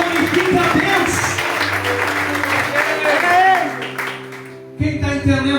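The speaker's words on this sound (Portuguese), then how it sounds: "Aplaude e glorifica a Deus" A church congregation claps and cheers loudly for several seconds, with voices mixed in, before the applause cuts off abruptly.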